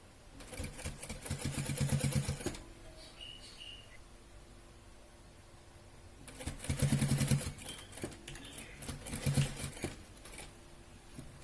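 A sewing machine stitches a baby frock in two loud, rapid whirring bursts separated by a quiet pause, heard close up with no talk.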